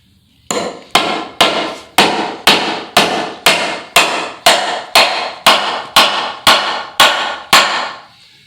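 A hammer drives nails during a spa remodel with fourteen or so loud, evenly spaced strikes, close by and ringing, with nothing else heard between blows.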